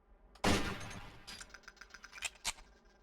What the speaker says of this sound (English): I fired so fast, it only sounded like one gunshot.